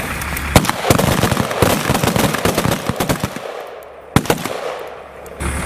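U.S. Marines fire rifles at targets during cold-weather shooting in Norway, a rapid series of sharp, loud cracks with near-continuous volleys, a pause, then a few more isolated shots.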